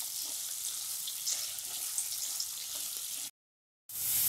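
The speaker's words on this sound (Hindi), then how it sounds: "हमने आलू को अच्छे से फ्राई कर लिया है।" Potatoes sizzle steadily in a hot pan while being fried for a fasting samak rice pulao, a continuous close hiss broken by a short silent gap before the sizzling resumes.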